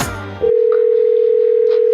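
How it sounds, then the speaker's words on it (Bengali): A steady telephone dial tone sounds on a landline or phone line after a brief burst of voice, holding loud and unbroken for well over a second. "আমি ডাক্তারকে ফোন করি।"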